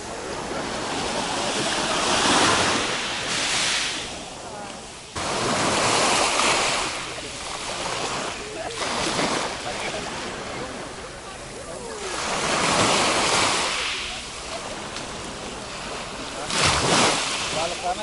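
Sea waves surge and wash ashore at Damlataş beach in Alanya at sunset, loud rolling swells rising and falling in repeated sweeps, mixed with gusty wind buffeting the microphone.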